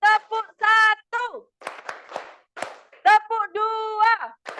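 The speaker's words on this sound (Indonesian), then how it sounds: "Tepuk semangat." Elementary schoolchildren in a sixth-grade classroom chant a call-and-response clapping routine, sung voices alternating with short bursts of group hand claps in a quick rhythmic pattern.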